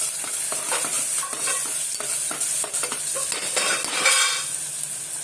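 Onions fry in a pan of oil tempered with bay leaf and red chili, giving a close, constant hissing sizzle. Repeated scraping and clinking of a utensil stirring against the pan break through it, with no talking.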